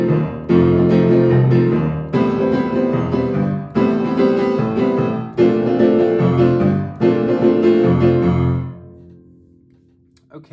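Solo piano playing the first half of the verse of a song, with five loud sustained chord phrases in a steady rhythm before the last one fades out, close and clear with no talking.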